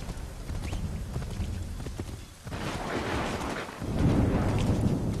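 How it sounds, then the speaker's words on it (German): Horse hooves clip-clop steadily in Assassin's Creed 3 as a horse is ridden through a thunderstorm, with a continuous wash of rain and a low rumbling roll of thunder that grows louder toward the end. "wenn es so gewittert und ich gerade auf dem Pferd unterwegs bin"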